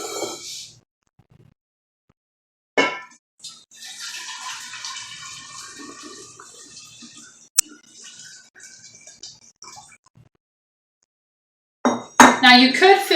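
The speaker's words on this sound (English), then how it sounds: "you pour hot water on to steep." Hot water pours steadily into a large gallon jar for several seconds, with brief knocks and clinks at the start and a voice speaking near the end.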